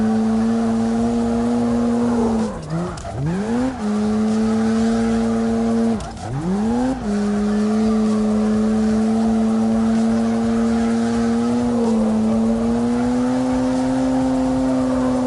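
A car drifting in CarX Drift Racing Online, its engine holding a loud, steady high-revving drone while tires squeal, with two sharp dips and swoops in pitch as the car shifts and slides, no voices over it.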